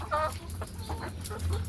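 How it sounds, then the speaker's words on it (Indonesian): Chickens on a poultry farm raised for laying eggs, clucking in short nearby bursts over a steady low background hum, with no voices. "Ini ayamnya mau bunyi terus, kokok terus"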